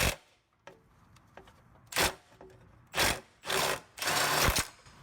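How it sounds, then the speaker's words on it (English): An impact wrench works on a seized exhaust nut of a Late Bay VW Bus in several short, harsh rattling bursts, the later ones longer, with quiet metallic clicks between them. "Now we're gonna hit it with the good old-fashioned nut buster"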